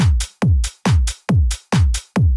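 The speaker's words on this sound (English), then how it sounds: "Then we want an open hat on the off beat." A steady speed garage pattern of six drum hits, each a low kick thump followed by a bright, sustained hissing open hi-hat wash on the off beat, loud and alone.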